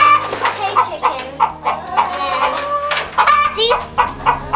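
A flock of chickens in a farm egg-laying barn clucking and squawking continuously, with many overlapping close calls in an uneven, chattering rhythm under a steady hum of barn noise.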